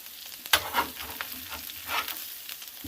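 Shredded hash browns frying in melted butter on a Blackstone flat-top griddle, a close, even sizzle broken by a sharp spatula scrape and a couple of louder swells of crackling.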